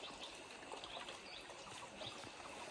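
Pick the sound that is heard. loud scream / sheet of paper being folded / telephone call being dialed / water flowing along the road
water flowing along the road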